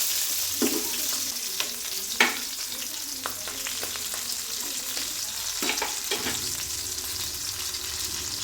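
Green chilies fry in hot oil in a pan with a steady, close sizzle. A few sharper spatters and stirring scrapes break through now and then, and no one speaks.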